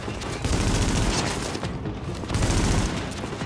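Dense, continuous gunfire in the video game The Division during a beta boss fight, a loud unbroken fusillade of overlapping shots with no talking.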